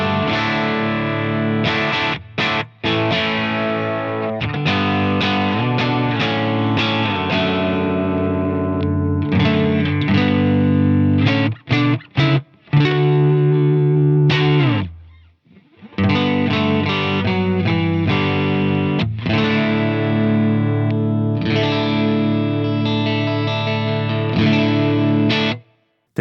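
Electric guitar played through a Lightspeed edge-of-breakup overdrive and a smoothing compressor pedal, loud and close, with chords and riffs broken by a few short pauses.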